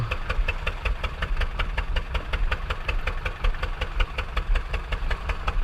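A boat engine running steadily in gear, a loud, close, even mechanical chugging with rapid regular pulses throughout and no voices.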